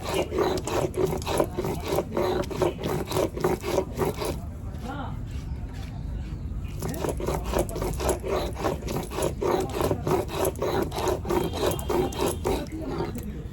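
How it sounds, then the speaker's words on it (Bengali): Ginger, garlic and cumin ground together into a paste, giving rapid rhythmic rubbing and scraping strokes that run steadily, pause for about two seconds, then resume at the same brisk pace, close and fairly loud. "আদা রসুন জিরে একসঙ্গে বাটা হয়ে গেছে"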